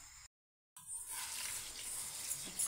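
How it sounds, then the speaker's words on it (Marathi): Rice being rinsed in water in a large pot, a steady wet swishing and sloshing that starts after a brief silence and continues at moderate level to the end. "हा तांदूळ एका मोठ्या भांड्यामध्ये टाकून 2 ते 3 पाण्याने स्वच्छ धुवून घ्यायचा आहे"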